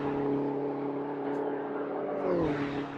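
Engines of JCW Mini race cars in a racing video game, a steady droning hum with a slight pitch dip near the end, moderately loud with no talk over it.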